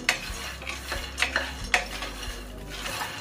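Peanuts being dry-roasted and stirred in a pan over a medium flame give faint, scattered scraping and rattling strokes, a few sharper clicks standing out against a low steady hum, with no voices.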